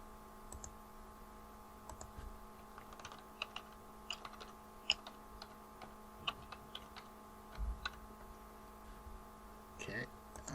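Computer keyboard keys tapped to fill in a data entry form, faint scattered clicks in short bursts over a steady low electrical hum.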